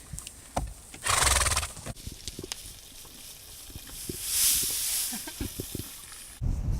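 A donkey at a campground gives a horse-like whinny, a loud shrill call heard near, with snorts and huffing breaths around it and a brief hiss.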